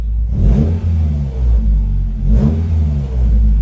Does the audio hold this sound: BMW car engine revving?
yes